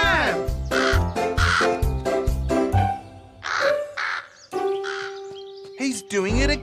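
A cartoon crow caws repeatedly in loud, harsh bursts, with clanging, ding-like tones and musical sounds mixed in. No one talks during these sounds.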